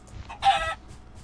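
Chickens in a video game give one short burst of clucking at moderate volume over a low background hum.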